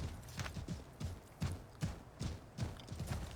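Horse hooves clip-clop in a steady walking rhythm in Assassin's Creed 3, soft, fairly close paired thuds repeating roughly every half second with no talking.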